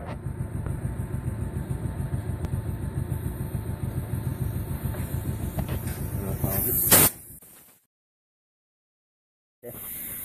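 In an engine block honing job, a compressed air hose gives a short, sharp hissing blast after a stretch of rhythmic machine rumble. Silence follows, then the hiss briefly returns.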